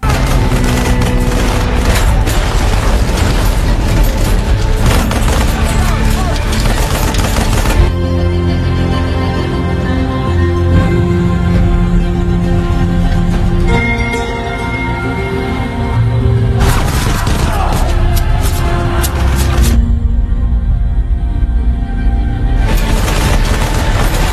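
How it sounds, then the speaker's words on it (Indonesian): Loud, sustained bursts of gunfire and booming blasts from a Vietnam War film battle with cavalry, rapid shots layered under a dense, dramatic soundtrack with brief lulls between volleys. "kompi kavaleri menghujani musuh dengan tembakan"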